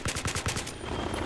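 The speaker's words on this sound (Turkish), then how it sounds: "Düşmanlar bizim helikopterlere ateş ediyor." Rapid bursts of enemy machine-gun fire in Battlefield 3, about a dozen quick, evenly spaced shots over the first two-thirds of a second, then a fading echo with a faint high tone.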